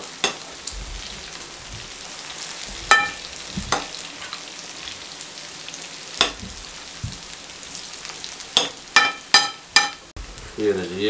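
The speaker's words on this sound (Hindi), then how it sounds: "ये सारे मैं इस तरीके से फ्राई करूँगा। 6 से 7 मिनट इनका फ्राई टाइम रहेगा मीडियम फ्लेम पे।" Chana dal pakoras deep-fry in oil over a medium flame, a bubbling sizzle punctuated by sharp crackles and pops that cluster and grow louder toward the end.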